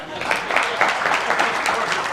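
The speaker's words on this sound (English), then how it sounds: "Give me a hand clap again." At a church service, an audience claps together in a steady, even rhythm, loud and close, for a couple of seconds.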